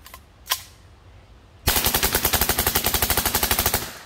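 A full-auto suppressed CMMG Mk45 .45 ACP machine gun with a lightning link fires one rapid, loud burst of about twenty evenly spaced shots, preceded by a couple of faint clicks and a thud.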